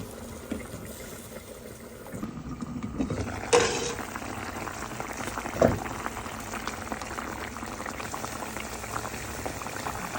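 A fish head cooks in spiced gravy with a little water for a radish curry, bubbling steadily up close, with two short louder knocks or stirs breaking the simmer.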